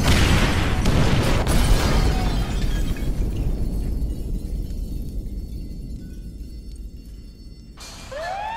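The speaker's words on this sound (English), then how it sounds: "trigger the fire bombs, Frank" Firebombs exploding in a video game, opening with a loud burst and shattering crash, followed by a long roaring rumble of flames and debris that slowly dies down.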